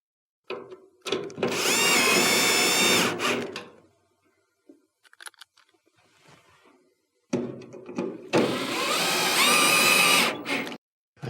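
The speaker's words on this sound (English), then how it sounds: "Install your 2 screws." A power drill drives two screws into a Whirlpool dryer cover, two loud whirring bursts of about three seconds each separated by a quiet pause with light handling clicks.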